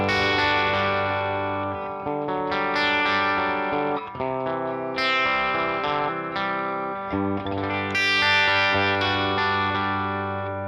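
An electric guitar runs through a Tonex pedal modelling a Vox cabinet with Celestion Blue speakers, miked with a 414C and a 57D. Distorted, reverberant chords and phrases ring out steadily and up front, with no talk.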